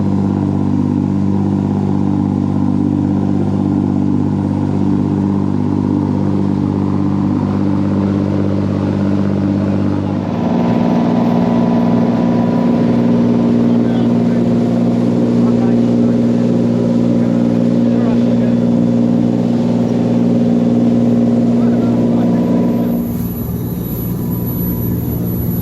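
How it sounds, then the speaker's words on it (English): Boat engine with a turbo spooling up as the throttle opens on a run at sea toward Alderney, a steady loud drone that deepens and strengthens midway, continuous throughout. "The sound of that turbo winding up and it opening it up and getting to Alderney."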